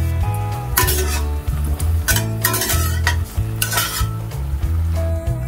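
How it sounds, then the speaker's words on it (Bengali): Lentil dumplings (bori) fry in oil under a loud sizzle while a utensil repeatedly scrapes and clinks against the pan in rhythmic stirring bursts, close up and without speech. "বড়িগুলোকে আগে ভেজে নিচ্ছি"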